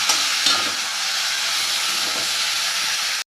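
Brinjal poriyal stirred and sautéed in a pan, a steady close sizzle and hiss with a few scraping stirs near the start, continuous and loud with no talking.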